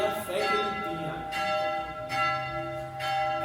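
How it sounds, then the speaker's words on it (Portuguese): A church bell rings out in repeated strikes, each with a long shimmering decay, fairly loud and close over a faint background. "Escute o toque do sino nesse momento"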